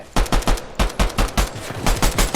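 Automatic gunfire from Fortnite Chapter 5 Season 1 Zero Build rattles in rapid loud bursts of about ten sharp shots, close up, with no talking.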